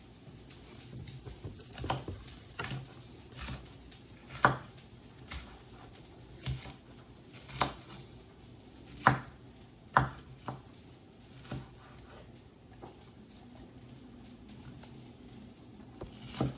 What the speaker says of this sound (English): And just keep dicing.